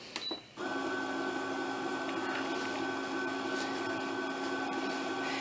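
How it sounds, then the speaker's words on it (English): A Brother SE-400 sewing machine winds a bobbin: the motor starts after a short pause and then holds a steady, even whir close by, with no talk. "I'm going to be able to wind my bobbin by pressing the yellow button"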